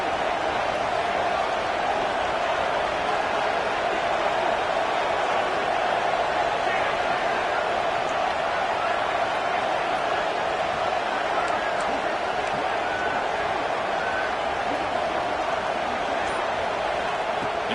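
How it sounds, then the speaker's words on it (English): A stadium crowd in College Football 26 keeps up a steady, dense roar of cheering throughout, with no breaks or swells. "Listen to the crowd energy here in the early going."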